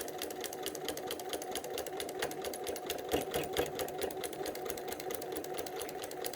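A sewing machine runs steadily, stitching a quilted placemat with a continuous rapid mechanical whir and needle chatter at moderate level throughout, with no voices.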